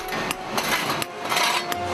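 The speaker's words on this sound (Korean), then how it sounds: "망치로 있는 힘껏 석회석을 내리쳐서 작게 만든 다음" A hammer strikes limestone hard to break it into small pieces, a series of sharp, irregular knocks up close, some quick in succession, with no one talking.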